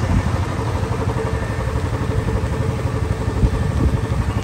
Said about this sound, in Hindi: बाइक ले छोड़ रहा हूँ